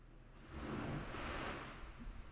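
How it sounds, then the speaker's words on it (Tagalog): A faint wash of ocean surf swells and recedes, a soft broadband rush rising in the middle and fading, distant and alone. "lumakas yung alon"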